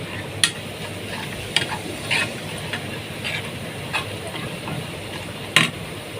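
Coriander and garlic frying in a pan for Egyptian home-style spinach: a steady low sizzle with a few sharp clinks and pops scattered through it, close by and with no talking.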